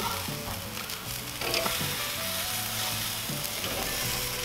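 Denver steaks sizzling over direct heat on a Weber kettle grill just after flipping, a steady close crackling hiss with occasional tapping and scraping, no talking.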